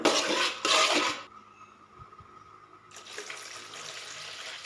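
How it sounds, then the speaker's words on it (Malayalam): A cup of water is poured into a pan of fish head curry, a brief splashing gush followed by a short quiet gap and a second softer pour, close by and without talk. "ഇതിലേക്ക് ഒരു കപ്പ് വെള്ളം ചേർത്ത് കൊടുത്ത്"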